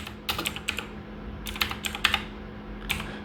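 Quick bursts of keystrokes on a computer keyboard, clicking close by in two short flurries with a brief pause between them and a final few taps, no talking.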